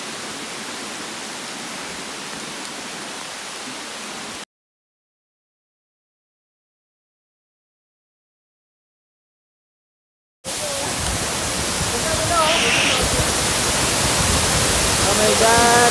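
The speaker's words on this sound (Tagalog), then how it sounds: "Malakas yung tubig. Dito sa Batlag Falls." A waterfall swollen by a typhoon roars as a loud, steady wash of rushing water, dropping out for several seconds of silence before returning even stronger and closer.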